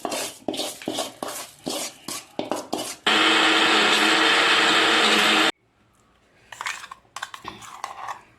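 A mixer grinder whirs loudly and steadily for a couple of seconds while grinding coriander chutney in its jar, set between spells of kitchen clatter and handling noises, with no talk.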